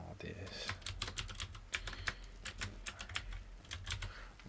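Rapid keystrokes tap on a computer keyboard up close as a new Arduino sketch name is typed, an irregular run of crisp clicks in short bursts with low room hum beneath.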